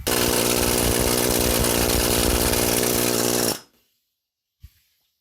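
A loud, buzzing power tool drives screws during the build of a scrap-metal planishing hammer, running at a steady high whine for about three and a half seconds before cutting off abruptly, followed by a single soft knock.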